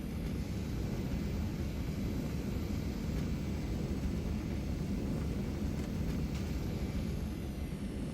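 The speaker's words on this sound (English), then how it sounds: "let me use the Viggen's thrust reverser" Saab Viggen jet in the DCS flight simulator with its thrust reverser engaged, a steady, loud, dense roar with deep rumble that holds evenly throughout, no talk over it.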